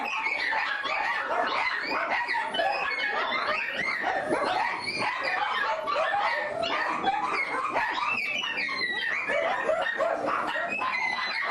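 Many dogs bark, yip and whimper at once in a puppy mill, a crowded, continuous chorus that is loud and close with no pauses.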